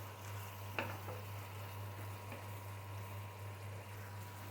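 Malabar spinach stalks are sautéed in a pan with ground spices for a koi fish dish, giving a soft, steady sizzle over a low hum, with one sharp scrape of a utensil early on and no talk.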